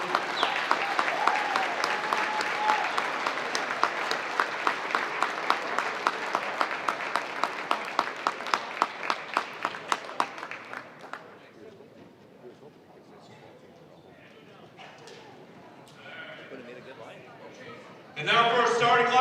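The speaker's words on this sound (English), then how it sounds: "Round of applause, please." Sustained crowd applause in a high school gym at a boys' basketball game, loud and dense with rhythmic clapping for about ten seconds before fading into quieter murmur, then a sudden loud burst near the end.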